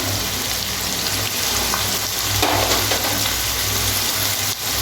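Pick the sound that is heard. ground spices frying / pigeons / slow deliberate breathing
ground spices frying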